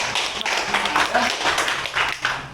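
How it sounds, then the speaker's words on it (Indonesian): A class of students clapping hands during a school lesson, a short burst of many hands applauding together, fairly loud, with a faint voice underneath. "Oke, tepuk tangan buat."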